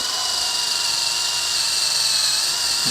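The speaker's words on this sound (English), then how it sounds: "But I just put it on high speed and I put it on the drill setting" Power drill running at high speed on its drill setting while removing a carbon fiber ducktail spoiler from a 2022 BMW M3 Competition G80, a loud continuous high whine held steady throughout.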